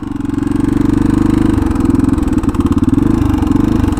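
A 40-year-old Honda dual sport motorcycle riding along a road, its single engine thumping loudly and rhythmically up close, with a brief rise in revs mid-ride.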